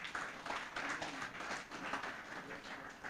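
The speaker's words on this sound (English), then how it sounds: "I hope you will clap about that." Faint, steady applause from an audience at a publishers' association annual conference, a dense patter of many hands clapping at a distance for the full few seconds.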